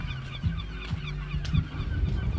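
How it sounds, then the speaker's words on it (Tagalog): A flock of geese honks repeatedly nearby, overlapping calls in an uneven rhythm. "ang daming ibon"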